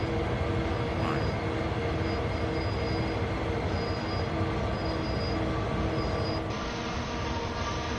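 A train braking hard in Train Sim World 2, a continuous loud rolling rumble of wheels on track with sustained metallic squeal tones throughout, no voices.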